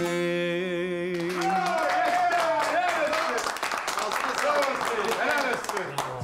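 A studio audience claps steadily under a sustained singing voice on a Turkish TV sitcom set, the dense patter of many hands continuing throughout.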